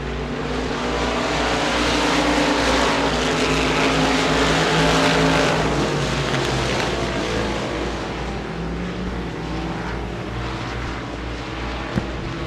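Modified V8 race cars roar around a dirt oval in a B main event, several engines blending into a loud, continuous wall of sound that swells and fades slightly as the pack passes.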